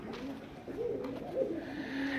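Pigeons cooing in a loft at a pigeon farm, a few soft rolling coos close together over quiet room noise.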